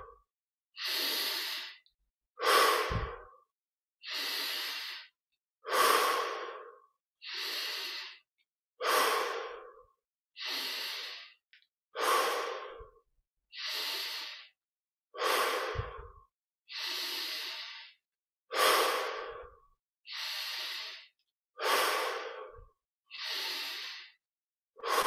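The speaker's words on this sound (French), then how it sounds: "Inspiration profonde, expiration par la bouche." Slow, deep meditative breathing repeats steadily, each inhale drawn through the nose and each exhale released through the mouth, close and clear with quiet pauses between breaths.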